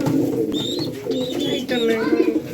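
Pet pigeons coo repeatedly at close range while being packed into a bag for sale, their throaty calls rising over rustling and handling noise.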